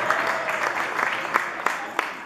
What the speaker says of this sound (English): who I think deserve a great round of applause for putting today together